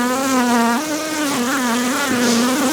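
Honey bees at an open hive buzz loudly and close by, a continuous drone that wavers in pitch with no break.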